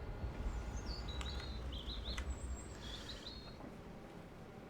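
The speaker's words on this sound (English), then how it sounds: "Do you have birds or something? No, they're just very loud outside at the moment," Birds sing and chirp outside an open window, with high, thin warbling calls in short bursts over steady background hiss, fairly faint and distant.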